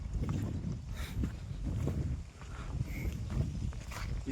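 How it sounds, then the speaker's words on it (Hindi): Buffaloes walk along a village path with soft, irregular hoof thuds and shuffling steps, heard close and moderately quiet over light outdoor ambience. "ये हमारी भैंसें चल रही हैं"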